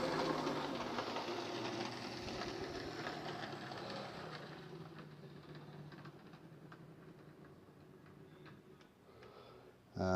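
A Class 33 locomotive comes past the engine sheds toward a van, a continuous broadband rumble and rattle that is loudest at the start and slowly fades. A steady ticking runs through it, with a sharp jolt at the very end.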